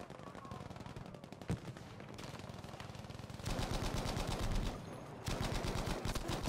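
Battlefield V gunfire comes in dense rapid automatic bursts with a few single heavier shots, loud and continuous, coming from several directions and growing more intense partway through.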